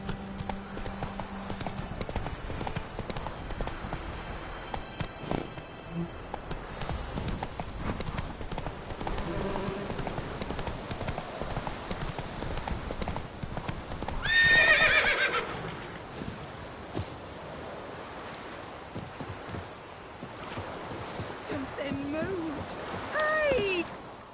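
Roach the horse gallops in The Witcher 3, rapid clip-clopping hooves running steadily and loudly, with a clear neigh in the middle and voices talking over parts of it.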